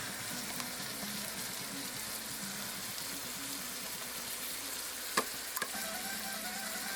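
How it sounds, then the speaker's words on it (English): Fiesta chili stirred in a slow cooker, a steady low scraping and bubbling texture with two small clicks of the spoon against the pot near the end. "just stir that in pretty good and make sure it gets all nice and mixed in"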